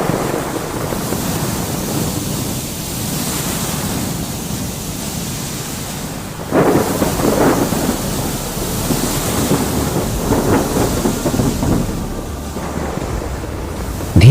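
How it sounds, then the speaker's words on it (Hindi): An animated thunderstorm at sea around a sinking merchant ship builds from steady roaring wind and rain into a louder, denser surge with heavy rumbling bursts. "धीरे धीरे तूफान और तेज होता जाता है और जहाज डूबने लगता है।"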